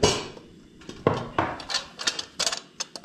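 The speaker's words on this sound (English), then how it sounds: "a black cardamom here, which I'm just going to crush with the bottom of my knife" Black cardamom pod being crushed with the flat bottom of a knife on a board while making vegetable biryani, a series of sharp close knocks and cracks, several in quick succession, with no talking.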